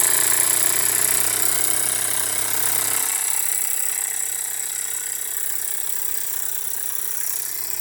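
A brand-new Jensen 75EL dual fuel toy steam engine runs steadily, its fast mechanical chatter loud at first, then easing to a lighter, quieter hum after about three seconds.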